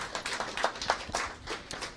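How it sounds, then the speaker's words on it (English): A student union meeting audience applauds a member's report, with scattered, uneven clapping spread across the whole moment at moderate loudness and no talking over it. "do you want to applaud Megan's report?"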